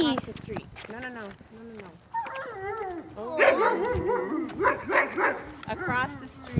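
Puppies across the street yip, whimper and bark in bursts of high, excited calls, mixed with a person talking nearby during a dog walk.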